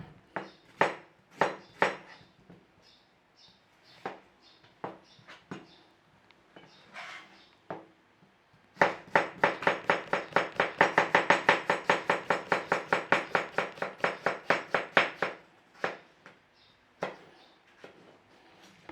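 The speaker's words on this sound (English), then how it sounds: "slice your potato to the same size" Kitchen knife slicing raw potatoes on a chopping board for a traditional Lancashire butter pie: scattered taps at first, then a long run of fast, even chops close by, with no talking.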